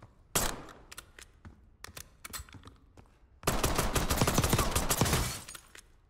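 Gunfire from a Warzone or Black Ops 6 weapon: a few spaced single shots, then a loud sustained rapid-fire burst of about a second and a half that cuts off abruptly.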